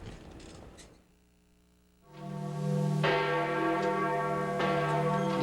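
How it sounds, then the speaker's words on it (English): Church bells of St. Peter's in Rome tolling at a papal funeral, deep resonant strikes ringing out with long sustained overtones after a brief quiet gap, fairly distant and alone. "The bells of St. Peter's tolled out across Rome this morning"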